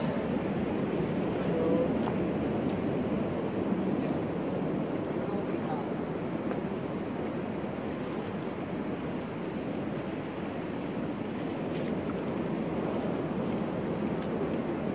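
Sea waves rolling onto the shore at a campsite beach, with steady wind buffeting the microphone, a continuous broad wash of surf that stays even throughout with no talk.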